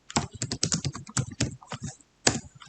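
Quick, irregular clatter of keys on a computer keyboard during work in Revit building-modelling software, close and crisp bursts of keystrokes with a brief pause near the end, no speech.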